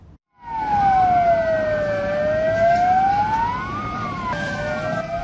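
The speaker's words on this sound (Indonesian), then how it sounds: "Suara sirine berbunyi saling bersahutan." Several fire engine sirens wail and overlap, loud and close, sweeping down and back up in pitch over a steady hum at a fire that burned houses and kiosks in Samarinda.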